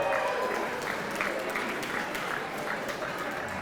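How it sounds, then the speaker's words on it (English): Audience at an anniversary gala gives a live band a round of applause: dense, steady clapping throughout, fairly loud and close, with no talk over it. "How about another round of applause for them?"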